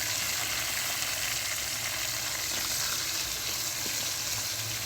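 Potato pieces frying with ginger, garlic, cumin and green chillies: a soft, even, continuous hiss of oil from start to end, fairly quiet and with no speech.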